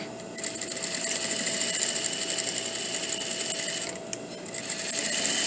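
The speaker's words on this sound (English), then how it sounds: "So now I'm going to sew this way." A sewing machine stitches a shirt collar in a fast, even, continuous whir, pausing briefly near the end before running again.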